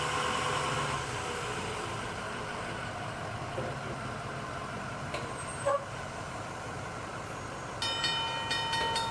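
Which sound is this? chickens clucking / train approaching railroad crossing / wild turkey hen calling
train approaching railroad crossing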